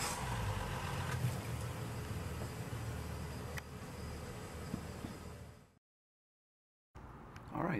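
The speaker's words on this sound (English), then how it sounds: "Okay, we're going to start the engines now." Engines on a 2016 28-foot Seafox Commander boat run with a steady, loud broadband drone, then cut out briefly to silence before starting up again near the end.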